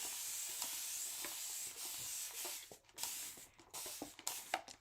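Short hissing bursts of a spray bottle misting a slate charcuterie board resting on a paper towel, several quick close sprays with faint handling shuffles between them.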